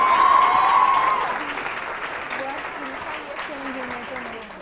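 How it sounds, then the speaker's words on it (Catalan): Audience applause on a Catalan local TV word game show, strongest at the start and then thinning out, while a presenter speaks over it and a tonal musical sting sounds near the beginning. "te'n vas amb aquest aplaudiment que et fem ara"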